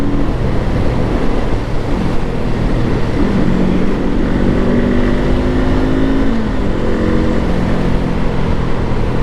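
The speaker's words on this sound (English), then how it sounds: "This motor kind of reminds me, it's not exactly the same, it's smoother." A Honda SCL500 motorcycle's engine drones loudly and steadily at close range, its pitch climbing and shifting as the bike revs through the gears, with a rumbling low end throughout.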